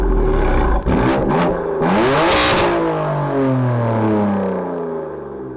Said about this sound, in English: The full titanium M Performance exhaust is the loudest factory exhaust that BMW makes.